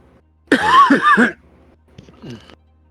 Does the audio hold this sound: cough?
yes